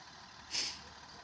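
A school bus pulls up, and one short, sharp burst of air-brake hiss rises midway over a low steady background hum, then fades.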